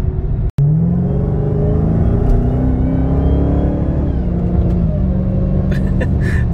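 A Subaru engine pulls steadily at half throttle, its drone rising in pitch, then easing, heard close from inside the car.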